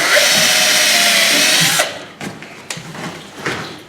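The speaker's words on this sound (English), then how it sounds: "I'm going to drill, I'll leave that in, I want a hole for his nose" A power drill bores a 3.5mm hole in wood, a loud close whine for nearly two seconds that cuts off abruptly, followed by a few scattered knocks and handling clatter.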